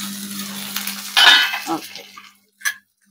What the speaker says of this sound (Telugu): హై ఫ్లేమ్ పైన ఫ్రై చేస్తున్నా